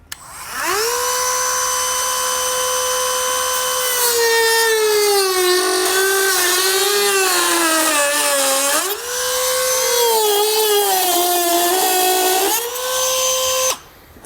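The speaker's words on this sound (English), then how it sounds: "We're just going to pretty much trace that as best as we can with our Dremel tool here." A Dremel rotary tool trims plastic on a 2021 Jeep Cherokee for a base plate install, whining loudly and steadily for about fourteen seconds, its pitch sagging and rising as the bit bites into the material, with no talking.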